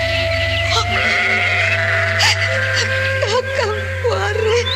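Goats bleat in a pen in a radio drama, several wavering calls layered over a steady low hum and ambient farmyard noise, with no voices in between.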